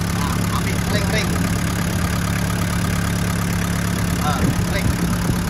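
A 1996 Daihatsu Taft Rocky 4x4 idles with its engine hot, a steady, loud mechanical hum and rattle that runs unbroken throughout, with faint voices briefly audible beneath it.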